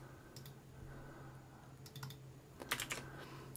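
Computer keyboard keystrokes for copy and paste shortcuts: a few quiet, crisp clicks spaced out, then a tight cluster of taps near the end, faint and close over a low steady hum.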